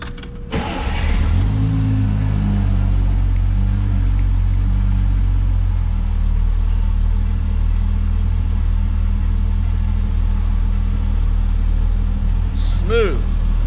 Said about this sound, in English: it'll still be a cold start